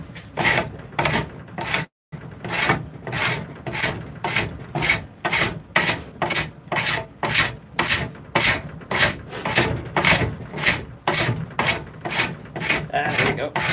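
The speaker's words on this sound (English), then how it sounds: "I might actually have to hand rasp that one." A hand rasp files a forged steel spoon in steady back-and-forth strokes, about two per second, loud and close with one brief pause, no voices.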